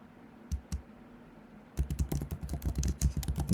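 Python code is typed on a computer keyboard: two lone keystrokes, then a quick, steady run of close, crisp key clacks.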